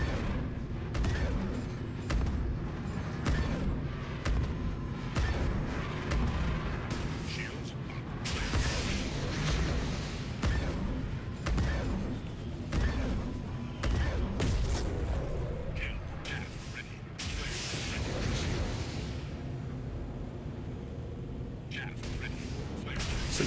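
Ballistic cannons fire in Star Citizen from a Vanguard Warden fighter, with fixed size 2 nose cannons and a size 4 gimbaled Rhino cannon, in dense rapid bursts and booms throughout alongside engine rumble and speech.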